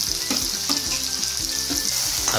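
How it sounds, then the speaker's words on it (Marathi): Onions frying with ginger-garlic paste and tomatoes in a pan for a spicy potato-cauliflower curry, a steady close sizzle broken by short scraping stir strokes. "आता हे थोडंसं अजून फ्राय करून घ्या।"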